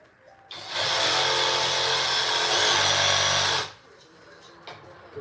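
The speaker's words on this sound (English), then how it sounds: "We'll just clean this guy up. Just a little with the jigsaw." A jigsaw cuts wood for a custom phone stand in one continuous loud, close burst of about three seconds, its motor whine steady throughout before it stops abruptly and leaves quiet.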